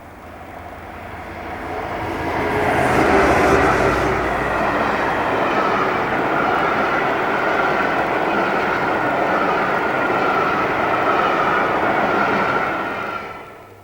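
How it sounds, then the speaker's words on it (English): British Rail Royal locomotive 47799 Prince Henry hauls the Pride of the Nation train toward Ascot, a steady diesel rumble and rolling wheel roar building from a distance, holding loud and close, then fading away at the end. "Here one of the two Royal locos, 47799 Prince Henry, is seen with the Pride of the Nation stock en route to Ascot"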